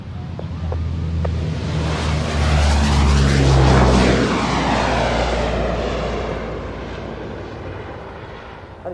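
Military display aircraft flying an orbit at an air show, a loud continuous engine roar that swells as it passes overhead and then slowly fades, with a sweeping rise-and-fall in pitch and some wind noise.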